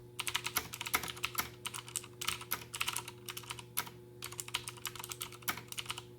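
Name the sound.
typing on Gamdius Hermes Lite mechanical keyboard without bottoming out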